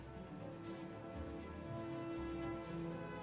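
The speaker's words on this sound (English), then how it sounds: "Why is it always raining in Riften?" Steady rain hisses over Riften in the Skyrim video game, a dense even patter with no talk over it, holding constant throughout.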